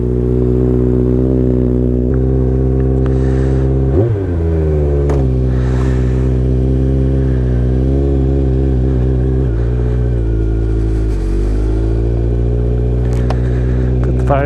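Kawasaki Z900 motorcycle engine running close and loud, a steady rumbling idle that surges in a sharp rev midway, then rises and falls through several smaller throttle blips.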